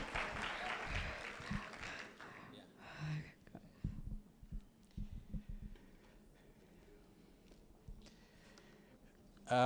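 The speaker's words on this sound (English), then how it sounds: "Clap for our peer chairman." An audience at a school alumni breakfast meeting claps for the parents' association chairman, a quiet, patchy round of applause in a room, with faint voices murmuring around it.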